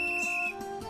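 A sanitation worker standing beside a village garbage collection vehicle blows a whistle, giving a sustained, steady, shrill tone that wavers slightly and stays clear and fairly close, with no voices.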